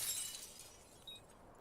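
Glass shatters in a competitive video game match at an air base esports championship, a quiet crisp breaking burst up high followed by a faint tinkle, far off and low in level, with no talk.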